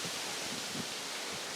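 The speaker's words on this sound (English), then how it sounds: "It's windy." Wind blows outdoors in the early morning as a steady, broadband rushing hiss with slight gusty swells, close and fairly loud, and no voices.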